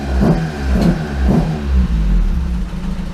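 A car engine set up with ME221 launch control bounces against the launch limiter at 2000 RPM, giving a loud, close, stuttering rev that pulses in several uneven surges with no talk over it.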